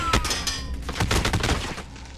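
Gunfire in Call of Duty: Modern Warfare multiplayer: a rapid, irregular burst of sharp shots and thumps, moderately loud and close, over a constant battlefield background.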